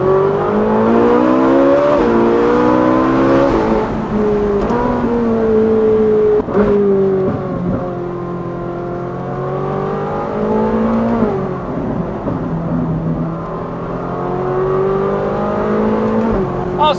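A Ferrari 458 with a Valvetronic Designs valved exhaust and stock downpipes rumbles and revs up and down in loud, close sweeps, the engine note rising and falling several times.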